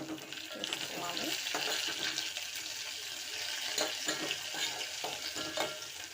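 Water goes into vermicelli upma in a hot pan, making a sizzling, bubbling wash with repeated stirring scrapes and splashes at close range, with no clear talk.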